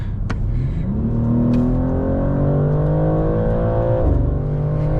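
A 2023 BMW M2 G87 with 460 hp accelerates hard from 100 to 200 km/h, its engine note climbing steadily in pitch, briefly dropping at a gear change and then rising again, loud and continuous from inside the car.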